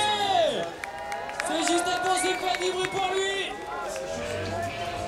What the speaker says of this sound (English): Crowd's getting amped.